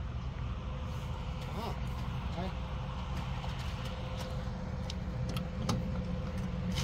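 A VW Passat engine with a loose exhaust runs at idle, a low steady rumble heard from nearby with faint metallic jingles and rattles over it.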